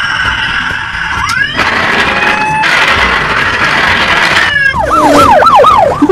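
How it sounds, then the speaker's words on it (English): Toy pullback police car siren, loud and close, shifting between a rising wail, a steady electronic tone and a fast warbling yelp. "It's a pullback police car."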